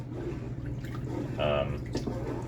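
Rice is stirred by hand in a container of water for a garden bacteria mix, giving faint, soft swishing and dripping sounds with a brief brighter splash partway through.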